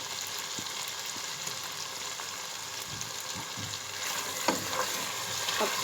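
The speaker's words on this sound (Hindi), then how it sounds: "अब तमाम स्पाइस को अच्छी तरह दही के साथ भूनेंगे हम।" Spices frying with yogurt in a pan for beef lauki gosht: a continuous close sizzle with occasional stirring scrapes and taps, growing slightly louder toward the end, no talking.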